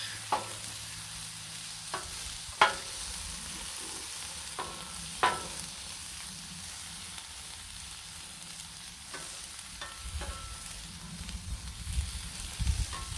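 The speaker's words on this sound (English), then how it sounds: "Just flip these garlics." Garlic cloves being flipped with a spatula among mushrooms and vegetables on a Blackstone griddle, under a constant soft sizzle broken by a few sharp scraping taps, close and fairly quiet, no talking.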